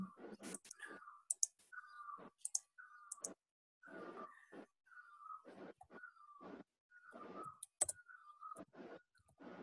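A computer mouse clicks about a dozen times in an uneven rhythm. The clicks are close and crisp, with short quiet gaps between them.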